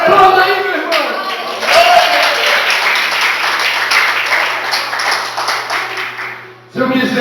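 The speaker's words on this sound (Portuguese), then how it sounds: "Aplauda aí, meu irmão." A church congregation claps enthusiastically during a sermon, dense applause rising after a voice and holding steady for several seconds before a brief pause, with speech over the clapping.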